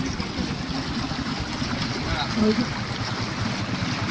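Water gushes steadily from a village deep tube well pump in rural Bangladesh, a loud, continuous rushing roar that fills the whole stretch close by.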